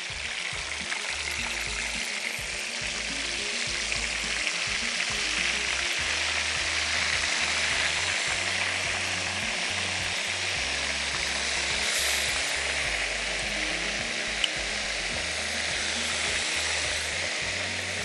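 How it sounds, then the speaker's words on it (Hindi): Marinated fish frying in hot oil on a low flame, giving a loud, dense, continuous sizzle and crackle that holds steady throughout with no talking. "ऑयल हमारा गर्म हुआ या नहीं, तो फिश को भी करते हैं फ्राई।"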